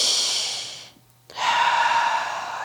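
Slow, deep breaths drawn near the microphone during a yoga flow: a long airy exhale fades out, a brief pause follows, then a loud sustained inhale.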